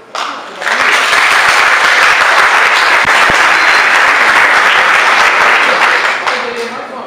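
Sustained, loud audience applause fills an auditorium at a mayoral candidate debate in Penedo, rising quickly and holding steady for several seconds before tapering slightly.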